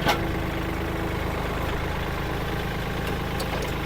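A Kubota L4018SP tractor with a front blade, a 2022 model, idles with a steady, even diesel drone, close and constant throughout with no speech.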